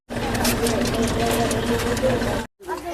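A tractor engine runs close by in Kajdi village, giving a steady throbbing drone with a rhythmic knock. It drops out for a moment near the end before resuming, while people talk nearby.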